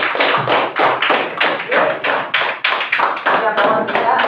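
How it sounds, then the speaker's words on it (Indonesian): A classroom group claps on a teacher's cue, a burst of dense, close applause that pulses in uneven waves for a few seconds. "kita beri aplaus dulu"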